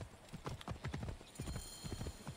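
Horse hooves clip-clop in steady rhythm on the ground in the video game Assassin's Creed Origins, close and clear, a run of distinct hoofbeats with no talking.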